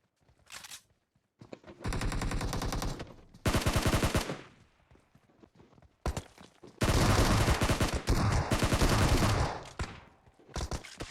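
Bursts of rapid automatic gunfire crackle in a video game shootout, several loud sustained volleys separated by short quiet gaps and single shots.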